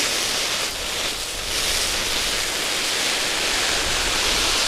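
Water from a hose sprays steadily onto a one-man tent, a dense continuous hiss and patter that holds at an even level throughout.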